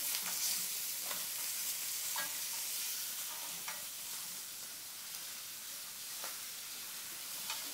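Lamb chops sizzle in a hot pan, a steady bright frying hiss with small pops and crackles throughout, close and moderately loud, no voices.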